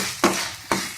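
Chilli chicken fries in a pan with a steady, close sizzle, broken by two short scraping stirs about half a second apart.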